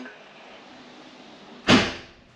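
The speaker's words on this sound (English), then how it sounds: "Doors closing." Old train carriage doors closing, a faint steady hum followed by one sudden loud sliding thud that fades quickly.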